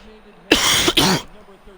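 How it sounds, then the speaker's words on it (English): A single harsh, rasping cough close to the microphone, a quick double burst breaking into quiet background talk. "Sorry about the coughing"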